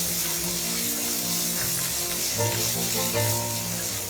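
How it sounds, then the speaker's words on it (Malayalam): Finely chopped onions sizzle in hot oil in a kadai, a steady close frying hiss with occasional stirring scrapes throughout. "അതിലേക്ക് നമുക്ക് സവാള ചെറുതായി അരിഞ്ഞത് ആഡ് ചെയ്യാം. ഇതൊന്ന് പിങ്ക് നിറാവുന്ന വരെ ഇളക്കി കൊടുക്കാം."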